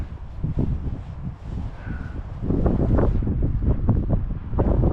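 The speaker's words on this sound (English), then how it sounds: "It's a bit windy, but it's to be expected" Strong wind buffets the microphone in loud, gusty rumbles at a Peak District campsite, intensifying partway through, with no talking.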